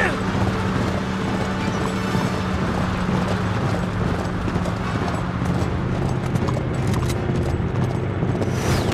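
Rhythmic hoofbeats of a galloping horse in Uncharted 3: Drake's Deception on PS3, over a dense, constant game soundscape with a steady hum beneath.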